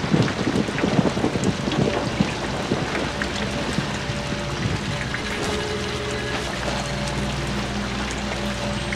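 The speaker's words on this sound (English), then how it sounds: "Ah! Lightning!" Storm ambience from the horror video game Outlast: steady rain with rumbling thunder underneath, busier and louder at first, then settling into an even wash with faint tonal hums, and no speech.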